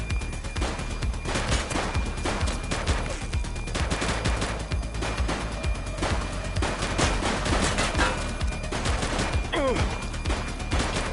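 Rapid, continuous gunfire in the police game The Precinct, a close, loud fusillade of overlapping shots with crashes mixed in, running throughout with little pause.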